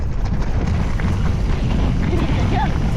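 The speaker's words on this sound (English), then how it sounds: "it's so windy" Strong gusting wind roars steadily across a microphone on an exposed mountainside bike trail at a trail centre, a dense, buffeting low rumble filling the whole clip.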